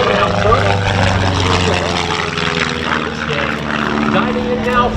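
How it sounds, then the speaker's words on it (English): A Long-EZ canard pusher-propeller plane dives into an aerobatic display at an air show, its engine a loud, steady droning roar with a whining tone that persists throughout. "Diving in now from the left to begin his aerobatic display, an aircraft not exactly intended to do so."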